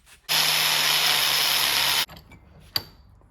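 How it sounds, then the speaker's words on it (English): A power drill whines loudly and steadily for about two seconds while enlarging a hole in a metal bracket on a 1981 Jeep CJ5 steering column, then stops, followed by faint clinks and a sharp metallic tap. "drill this out so it'll go over the column"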